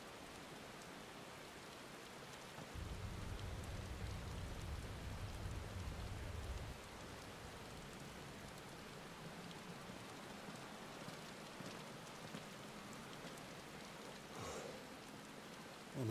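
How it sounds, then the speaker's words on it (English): Steady, dense video game rain effect inside a tower in Final Fantasy XVI, hissing continuously for the whole stretch, growing heavier for a few seconds early on, with no voices. "It's raining inside the tower."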